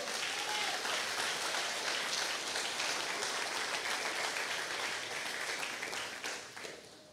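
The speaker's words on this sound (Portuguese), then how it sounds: "Dê um aplauso ao Senhor." A church congregation applauds during a sermon, sustained and even clapping that fills the room for several seconds and then tapers off at the end.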